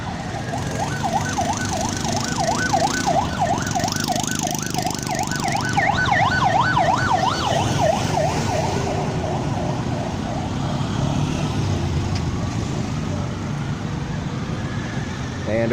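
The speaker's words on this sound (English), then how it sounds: "And of course, as you heard, the ambulance." Ambulance siren wails on a street in Siem Reap, a steady rising-and-falling tone that stays loud for several seconds before fading, over constant traffic noise and some background voices.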